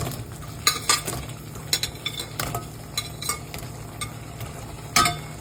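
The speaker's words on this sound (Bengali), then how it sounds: "এই পর্যায়ে আমি এর মধ্যে দিয়ে দিচ্ছি এই যে ভেজে রাখা পনিরগুলো।" Fried paneer cubes stirred into thick reduced chili sauce in a pan for dry chili paneer, with a spoon scraping and clinking against the metal over a low sizzle, several sharp stirring strokes spread unevenly, no voices.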